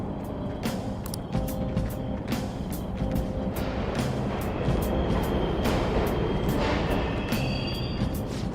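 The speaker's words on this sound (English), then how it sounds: "The trains are totally running!" Subway trains rumble steadily through an underground station in the video game Persona 5 Royal, a continuous low roar with faint repeated clicks and a brief high tone near the end, with no talk.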